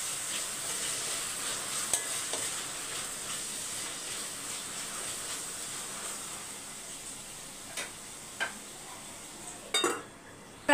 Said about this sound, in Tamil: ரவையை சேர்த்து மிக்ஸ் பண்ணிக்கலாம்.